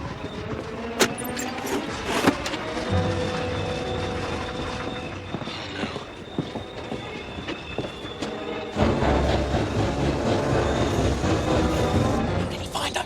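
A train rolls along the rails at a steady pace, a continuous rumble with clattering and metallic rattles, growing louder and denser toward the end; no one speaks over it.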